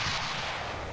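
Maverick air-to-ground missiles fire from a Blackburn Buccaneer in the flight-sim game Fighters Anthology, a sustained loud roaring blast of launch noise filling the whole second with no talk.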